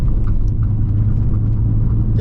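A Vauxhall Vectra Envoy 1.6i 75bhp driving on the road, a steady low engine drone and road rumble from inside the car, with a person talking over it.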